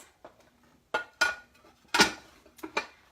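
A cake pan is flipped over onto a platter, giving several sharp clattering knocks and clinks of metal and dish spaced over a few seconds, close and fairly loud in a quiet kitchen.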